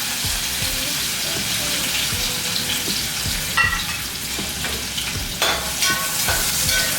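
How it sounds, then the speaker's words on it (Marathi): Chopped onion sizzling in hot oil seasoned with cumin and mustard seeds, stirred with a spoon; steady loud frying hiss with scraping stir strokes throughout, close up and no voices. "व्यवस्थित परतून घ्यायचं आपल्याला कांदा खूप लालसर नाही करायचा"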